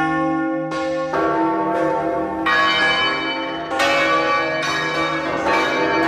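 Church bells ring in Guatemala, with loud, resonant strikes repeating every second or so and overlapping as each long ringing tone decays into the next.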